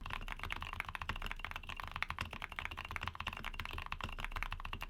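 Fast, steady typing on a keyboard with silent mechanical switches nearby, soft muted key presses in a continuous quiet patter.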